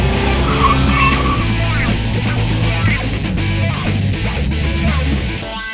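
Car fitted with an MSD 6AL2 ignition box doing a two-step rev limiter launch at 4,000 RPM: loud, close engine roar with stuttering limiter pops and tire squeal, fading slightly at the end.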